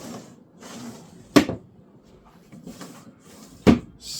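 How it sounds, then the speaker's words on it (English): Sliding storage cabinet doors in a campervan build, two sharp knocks as the doors bump shut, separated by quieter rolling slides in a mostly quiet room. "The doors just slide absolutely perfectly."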